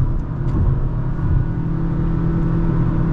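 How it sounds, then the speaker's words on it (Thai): Honda WR-V RS with a 1.5-litre engine accelerating on the road, a steady loud engine drone and whir with low rumble, heard from inside the car without talk. "เดี๋ยวผมขอลองเร่งความเร็วดูหน่อยดิ"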